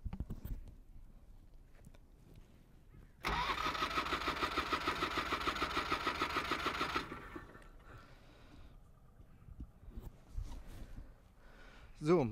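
A Trabant rally two-stroke engine, filled with thick oil, is cranked during a compression test: a loud, fast, rhythmic chugging burst lasts about four seconds, then stops, with quieter handling noises before and after.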